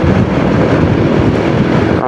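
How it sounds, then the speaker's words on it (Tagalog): Strong wind buffeting the microphone during a motorcycle ride in traffic toward Maragondon, a loud, continuous low roar and rumble filling the whole clip without a break. "Grabe, lakas ng hangin."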